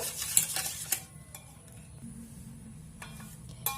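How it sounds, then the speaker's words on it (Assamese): Batter for an eggless suji cake, yogurt mixed with refined oil, whisked in a bowl with a spoon or whisk; quick light clinks and scrapes against the bowl, close and soft, with no one talking. "এইখিনিতে মই ভালদৰে মিক্স কৰি ল'ম"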